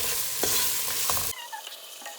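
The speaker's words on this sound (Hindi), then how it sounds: "प्याज को थोड़ा सा पिंक करेंगे।" Chopped onions sizzle and fry loudly in hot oil in a pan while being stirred for a chana masala base, a dense steady crackle that suddenly drops to a quieter, thinner sizzle midway.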